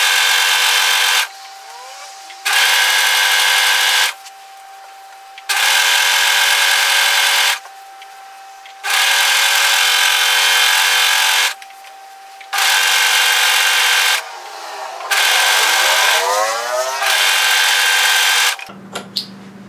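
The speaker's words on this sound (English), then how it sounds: "So I'm going to overlock tidy the raw edge." Overlocker sewing machine finishing a raw fabric edge on a puff sleeve top, running in loud, steady whirring bursts of a couple of seconds each, separated by short quiet pauses, close up with no talking.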